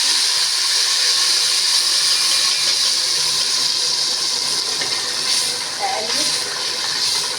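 Half a litre of tomato poured into a hot pan, a loud, steady hissing sizzle that holds throughout, close up, with brief faint clinks partway through.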